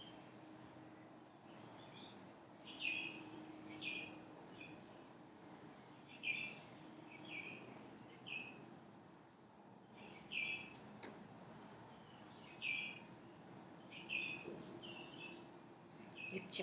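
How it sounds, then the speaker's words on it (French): Birds sing outdoors in repeated short, bright chirps and phrases, fairly faint against a quiet background with a distant road hum and light insect buzz. "les oiseaux."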